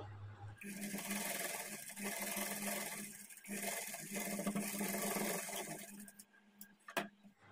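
Sewing machine running steadily while stitching a seam on a plain blouse, a continuous close mechanical whir with brief pauses and a soft clack near the end.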